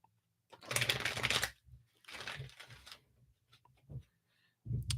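Tarot cards shuffle in bursts of crisp riffling and slapping, two long runs followed by shorter taps and a final burst, quiet and near with gaps of silence between.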